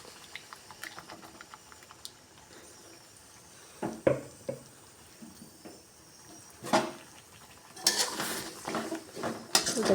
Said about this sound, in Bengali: দিয়ে ভালো করে কষিয়ে নেব।